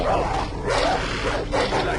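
Dog barking in the video game Far Cry 3, a few repeated barks in quick succession under a busy, loud game soundscape.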